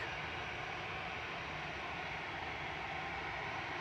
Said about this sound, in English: Next in is SAS coming in from Oslo.